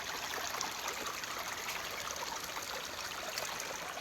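A small, clear sandy-bottomed forest stream branching off a larger one flows with a soft continuous trickle and babble, near and steady, with no voices.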